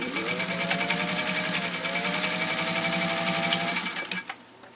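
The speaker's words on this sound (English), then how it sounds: "Alright, here we go. 5 layers of very thick upholstery grade vinyl." Singer 201-2 sewing machine stitching through five layers of thick upholstery-grade vinyl, running close and steady with a fast, even mechanical rhythm for about four seconds before slowing and stopping.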